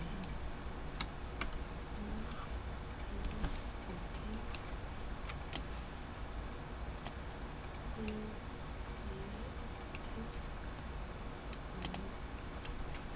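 A computer mouse gives scattered light clicks over a quiet room hum, some isolated and a few in quick pairs, with no voices.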